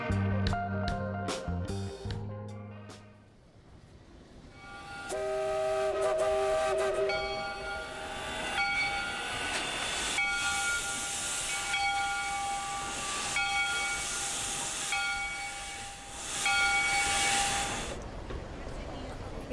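A steam train at a railway station gives loud, sustained hissing with tonal whistle-like bands, continuous and fairly close, after a short musical passage at the start, with a voice talking over part of it.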